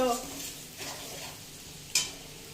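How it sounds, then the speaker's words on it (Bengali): Meat cooking in a pan at home: a low steady sizzle with a few scrapes of a stirring utensil and one sharp clink of metal against the pan, heard close. "দিদি মাংস রান্না করছে আমরা এসেছি বলে।"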